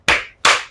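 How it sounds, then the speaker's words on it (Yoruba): Two sharp, separate hand claps ring out close and loud, each trailing into a short decay, with the gap between them still and no voices. "ẹ bá mi pàtẹ́wọ́"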